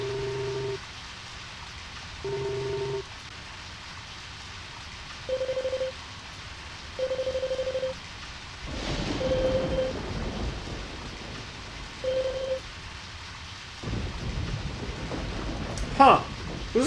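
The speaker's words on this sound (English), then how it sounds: "it's starting to rain" Steady rain hiss with low rumbles of thunder in the video game Deadly Premonition Origins, setting in after a few short electronic game tones and continuing to the end, with a sharper crackle near the close.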